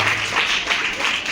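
An audience at a school science fair applauds to welcome a guest, a dense burst of clapping heard up close.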